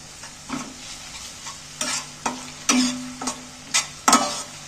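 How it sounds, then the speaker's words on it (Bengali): Ginger garlic paste sizzling in hot oil with onions in a pan, stirred in a run of distinct scraping strokes over a steady frying hiss, close and fairly quiet. "আদা রসুন বাটাটাও তেলের মধ্যে একটু নাড়াচাড়া করে পেঁয়াজের সাথে ভেজে নিচ্ছি হালকা করে"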